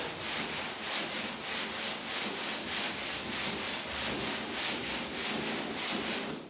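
Sandpaper rubbed back and forth over a filled dent repair, a loud close rasping scrub in a steady rhythm of short even strokes, about two per second, with no voices.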